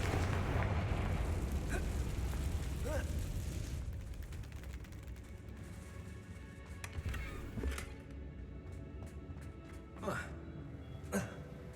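A Confringo fire spell blasts in the Hogwarts Legacy video game: a loud, rumbling explosion opens and slowly decays into a roaring wash, with a few sharper pops and crackles bursting through later.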